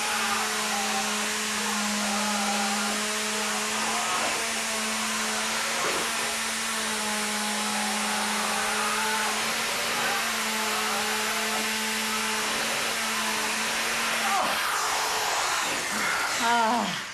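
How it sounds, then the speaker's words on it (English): A power drill runs steadily almost without pause, its motor whine holding a constant pitch for the whole stretch, close and loud, with a brief change in tone near the end, during a home renovation challenge in a neighbouring room. "he's got his drill on the wrong setting."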